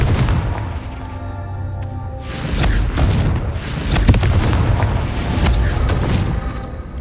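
Confringo blasting curse cast in Hogwarts Legacy, heard as repeated booming fiery bursts over a dense rumbling game soundscape, loud and close, with several impacts following one another.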